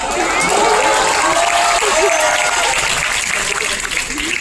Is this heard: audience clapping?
yes